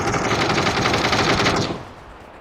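Loud rapid machine-gun fire from the game PUBG rattles in a fast, steady burst for about a second and a half, then cuts off and fades into a quiet tail.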